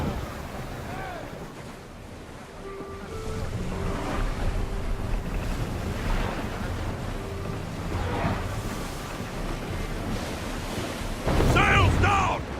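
Ship sailing on ocean waves in Assassin's Creed Odyssey, with a continuous wash of water and wind rushing around the hull, swells rising and falling, brief voices calling out, and a louder burst near the end.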